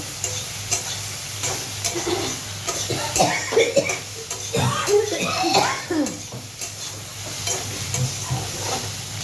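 Chillies go into eggplant and sidol chutney frying in a pan, and a utensil stirs with a steady sizzle, scraping and clinking against the pan close up, while a voice talks briefly over the cooking.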